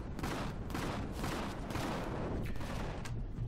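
Weapons fire in a steady volley on an alien planet in the space survival game Empyrion, a dense run of heavy booming shots at a slow, regular rate, fairly distant and rumbling.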